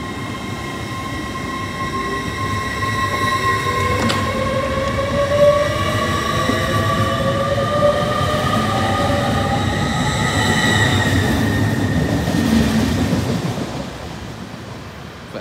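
A train runs through Retford Station on the 1344 York to Huntingdon service, its steady loud rumble of rolling wheels and rail noise holding for about fourteen seconds, with faint squealing tones above, before it begins to fade away.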